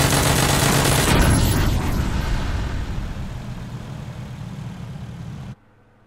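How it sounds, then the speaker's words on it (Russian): A UAZ vehicle blows up in a video game, a loud booming blast with crackling rumble that decays gradually over several seconds before cutting off abruptly, no voices over it. "как УАЗик взрывается"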